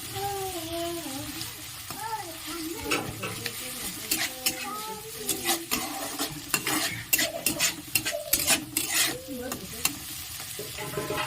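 Vegetables for street-style egg chowmein stir-fried in a pan over a medium-to-high gas flame, a steady loud sizzle broken by frequent scraping and clanking strokes of the spatula, with a voice speaking over the early part.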